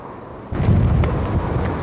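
Wind suddenly gusts and buffets loudly against the microphone after a brief quiet start, then keeps roaring steadily, outside the station in Stratford-upon-Avon.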